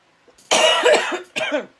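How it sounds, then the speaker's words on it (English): Two harsh coughs close by, a long rough one followed by a shorter one, with quiet before them. "because I am still coughing"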